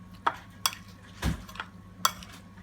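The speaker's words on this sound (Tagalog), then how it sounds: "Pagkatapos nito, guys, hahalo-haloin natin siya." A utensil stirs beef meatball (bola-bola) mixture in a pan, giving a few separate scraping clinks spaced about half a second apart over a quiet background.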